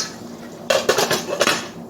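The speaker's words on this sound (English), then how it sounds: "so I'm going to put the lid on it" A metal lid goes onto a boiling pot on the stove, giving a quick cluster of four or five bright clanks and rattles as it settles, close and fairly loud.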